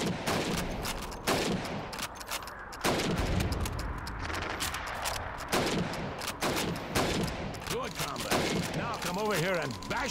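Rifle shots at helmet targets in Call of Duty 2, a series of loud, sharp gunshots fired in quick succession with short gaps between, alongside other gunfire and voices talking over it.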